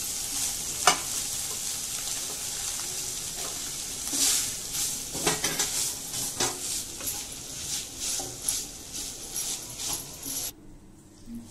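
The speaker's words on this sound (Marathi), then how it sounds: "तुपामध्ये मावा आपल्याला परतून घ्यायचा आहे।" Mawa sautéed in ghee over low heat for modak, a soft steady sizzle with repeated spoon scrapes and stirring knocks against the pan, ending abruptly, with no speech.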